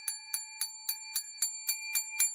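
A bell rings nine times in a steady, even rhythm, each strike bright and ringing with a sustained tone that carries between the hits. It sounds close and clear, with no talking.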